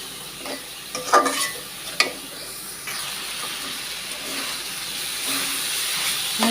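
Chopped banana flower frying in oil, a close, continuous hiss and sizzle broken by a few sharp clicks and scrapes of stirring in the pan early on, with no voices.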